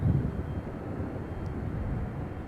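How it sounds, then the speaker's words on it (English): An Embraer ERJ 145LR jet arrives at Charlotte airport, a steady, broad rumbling roar of engines, moderately distant and constant throughout. "Embraer ERJ 145LR coming in from FWA Fort Wayne."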